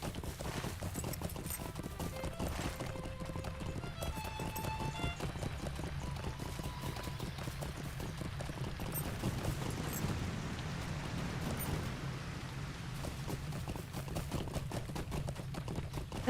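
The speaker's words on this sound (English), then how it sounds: "There's something very soothing about like listening to the horse. You know, the hooves." Horse hooves clip-clop steadily along a road in the online game The Lord of the Rings Online, a continuous even rhythm at moderate level with soft ambient music beneath and no talk.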